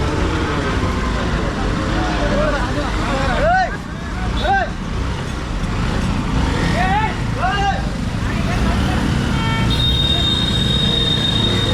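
Heavy traffic jam on the Khandala ghat road behind a large broken-down container truck, with a steady roar of engines and several short horn toots. Voices can be heard throughout.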